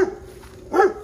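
A dog barks twice, a short yelp at the start and a louder bark near the end, with quiet outdoor background between them.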